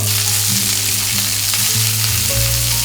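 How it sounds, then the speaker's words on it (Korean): Asparagus sears in a pan beside salmon, a loud, continuous sizzle and crackle close up, with a steady low hum beneath. "아스파라거스를 같이 옆에서 구워주세요"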